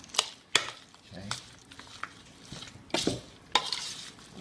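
Pieces of monkey bread dough are tossed in a bowl, giving soft sticky rustles punctuated by several sharp knocks and scrapes against the bowl at irregular intervals, close and fairly quiet.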